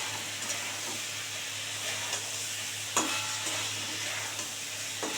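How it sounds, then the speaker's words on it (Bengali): A cauliflower mixture with a little sugar being stirred and sautéed in a pan, a steady close frying hiss running throughout with occasional soft scraping strokes of the spoon. "এবার এটা একটু ভালো করে কষিয়ে তারপরে জল দিয়ে দেবো।"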